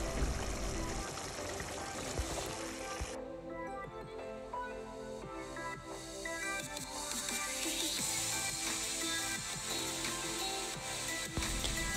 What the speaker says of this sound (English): So here I am just frying my tomato.